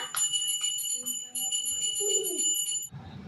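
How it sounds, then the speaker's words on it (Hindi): A small prayer bell rung by hand in a home prayer room, giving a bright, sustained metallic ringing that repeats for about three seconds, fairly close, over faint room noise, then stops. "यहाँ दादी घंटी बजा रही हैं"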